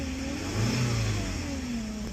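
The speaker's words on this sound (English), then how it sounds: "The engine feels good. I'm accelerating it." A 2011 Ford Fusion with a 2.0 liter engine revs up under acceleration, a steady close engine drone that swells midway and then settles slightly.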